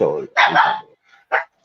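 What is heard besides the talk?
chihuahua dogs barking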